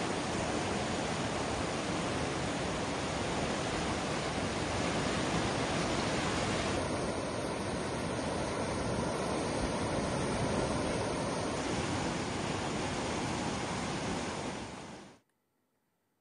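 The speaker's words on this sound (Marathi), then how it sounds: "महाराष्ट्र कर्नाटक सीमेवरील राजापूर बंधाऱ्यावरून देखील मोठ्या प्रमाणात पाणी वाहत आहे" Flood water rushes over the Rajapur weir on the Maharashtra–Karnataka border after heavy rain, a dense, unbroken roar that holds steady for about fifteen seconds before cutting off abruptly.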